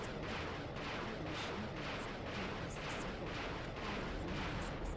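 Rapid machine-gun fire and missile launches in a Ratchet and Clank video game, a dense, continuous barrage of bursts pulsing about twice a second, fairly faint and with no talking.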